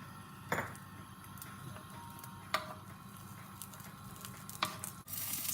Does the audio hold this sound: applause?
no